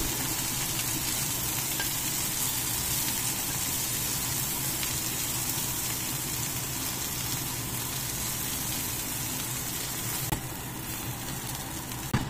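Chicken sizzles steadily in a hot pan, a loud, even frying crackle that runs unbroken with no talk, ending in a couple of small clinks.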